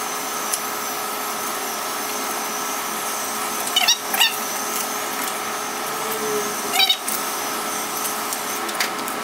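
A heat gun warms vinyl wrap on the window trim of a Lexus IS, a steady loud blowing whir throughout, with two brief bursts of rustling and handling noise partway through.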